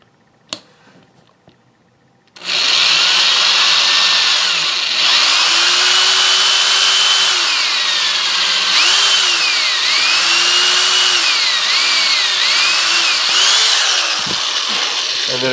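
A loud power drill whirs steadily after a brief quiet start, drilling pilot holes in a guitar, its pitch dipping and rising repeatedly as the bit bites in and eases off.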